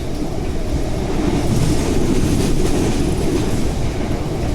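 Steady, loud rumble of a passenger train on the Wellington Kapiti Line moving at speed, with continuous rail noise and faint rhythmic wheel clatter throughout.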